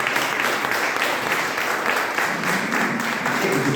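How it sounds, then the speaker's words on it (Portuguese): A congregation at a public worship service in Jardim Noronha breaks into applause, a steady roar of many hands clapping at moderate volume with a faintly pulsing rhythm. "Palmas ao Senhor."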